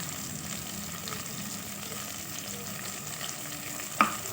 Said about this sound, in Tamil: இது கூடவே ஒரு இருபது பல் பூண்டும் சேர்த்துருக்கேன் இதுவும் சேர்த்து ரெண்டுமே நல்லா கோல்டன் ப்ரௌன் வர்ற வரைக்கும் நல்லா வதக்கி விடணும்